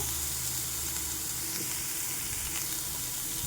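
Vegetable manchurian pieces fry in hot oil in a pan as they are turned, giving a steady, close hiss and crackle with faint stirring scrapes and no voices.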